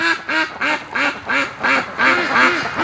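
A duck in the mud quacks rapidly and repeatedly in the rain, a close, rhythmic string of short nasal calls with no pauses between them.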